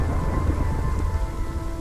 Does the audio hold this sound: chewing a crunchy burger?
no